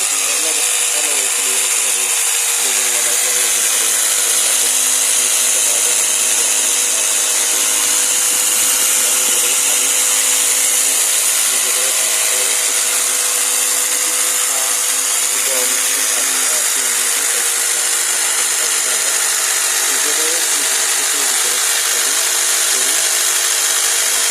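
A power tool cuts a wooden board by hand for a clothes rack, producing a loud, steady, high-pitched whine that runs continuously without break, with faint talk underneath.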